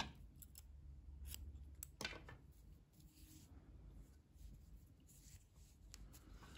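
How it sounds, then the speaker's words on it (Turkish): Scissors snip through knitting yarn after a row is joined, a few crisp close cuts in a quiet room. "İpliği kesiyorum."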